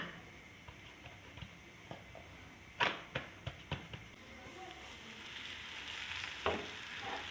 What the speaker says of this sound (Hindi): ये रोटी भी तवे पे डल गई।